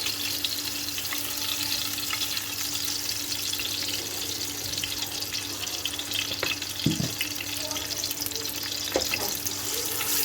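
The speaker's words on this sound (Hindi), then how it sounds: "ये ऑयल डाला जितना आपको अपने चावलों की ज़रूरत है ऑयल की।" Cooking oil heats in a large pot ahead of frying onions for two kilograms of rice, giving a steady, even crackling hiss throughout with an occasional faint clink or knock and no talking.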